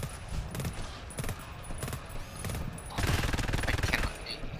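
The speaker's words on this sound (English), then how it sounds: "Oh, not the bio tracker, the fucking machine gun." A machine gun fires rapid bursts in the video game GTFO, clattering shots in short volleys that grow denser and louder toward the end, with no talk over them.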